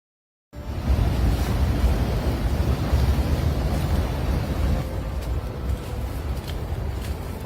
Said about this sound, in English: Huge waves of snow pour down a mountain in a frozen daytime avalanche.